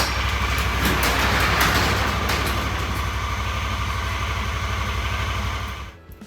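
A Honda Pioneer 1000 UTV engine idles steadily with a low, even rumble for several seconds, then cuts off near the end.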